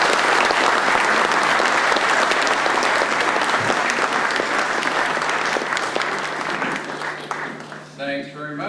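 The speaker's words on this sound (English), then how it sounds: "How about a very big round of applause for Dr." Loud, dense applause fills a business club meeting room for a guest speaker, sustained and steady before thinning out, with a voice starting to speak as the clapping fades.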